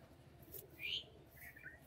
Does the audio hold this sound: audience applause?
no